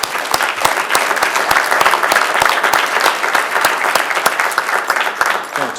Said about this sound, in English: So just round of applause for these wonderful representatives.